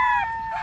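A dark-legged gamecock lets out a short, loud, harmonic call close by, a sustained tone that dips in the middle and then rises again.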